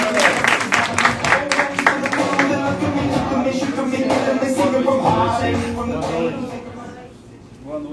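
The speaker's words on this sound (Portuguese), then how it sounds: "recebam aí com energia, com salve de palmas, o Luciano Gibaili" A sales-management lecture audience in Rondonópolis applauds to welcome speaker Luciano Gibaili, with clapping and crowd noise blended with voices and tonal sounds that dwindle toward the end.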